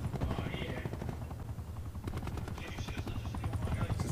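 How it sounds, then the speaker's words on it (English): Attack helicopter rotor drone from Call of Duty Black Ops 4 runs steadily throughout, mixed with bursts of gunfire and in-game effects, while a voice talks over it. "This is the worst map to get an attack chopper on."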